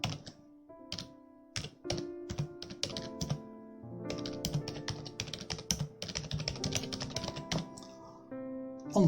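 Rapid, uneven keyboard typing with clustered key taps and occasional heavier thunks, fairly close and continuous, with no talking.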